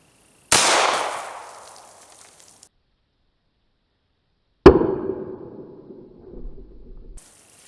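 A single 9mm Winchester 124 grain +P hollow point round fired into water jugs outdoors: one sharp, loud crack with a fading tail, then a second heavy impact-like bang followed by splashing and rumbling that trails off.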